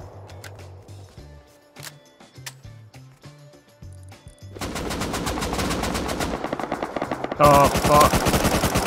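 Gunfire in a shooter video game: scattered sharp single shots, then dense rapid automatic bursts that grow louder and more continuous, with a brief spoken exclamation mixed in.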